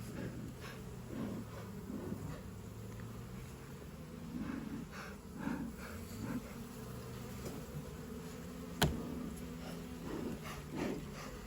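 Bees buzz around a beehive with a low, wavering drone near the microphone, rising and falling over a steady quiet background, with one sharp click partway through.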